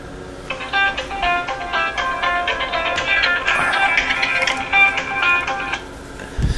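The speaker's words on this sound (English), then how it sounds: "That was my alarm clock." An electronic alarm chimes a repeating melodic pattern of bright beeping notes for several seconds, fairly loud and close, then stops abruptly.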